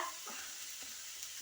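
Curry leaves crackling in hot oil for a prawn roast, a soft, faint sizzle with light stirring over a short stretch, no voices.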